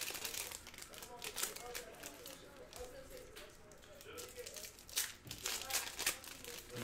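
Foil packaging from Topps Chrome baseball cards crinkles and crackles close up in bursts of rustling, some of them sharp. A person talks softly underneath.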